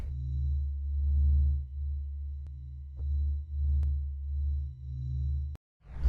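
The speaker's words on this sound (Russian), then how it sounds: "Кстати, вот звук нашей звезды." The Sun's sound rendered audible as a low, humming drone of pure tones that swells and dips in slow waves, then drops briefly to silence before a final rising swell.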